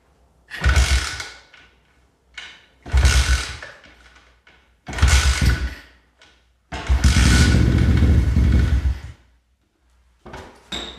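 A 1970s Honda dirtbike fitted with a cheap Chinese engine, long left sitting, fed starting fluid, fires in three short loud bursts that die out, then catches for a couple of seconds before cutting off.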